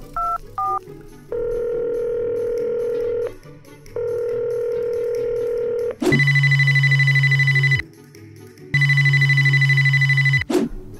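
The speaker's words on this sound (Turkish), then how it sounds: "Çok çaldırdım ama açmıyor telefonu." A phone call in a children's cartoon: a few quick dialing beeps, then steady tones, then two long loud rings that keep repeating with pauses and go unanswered.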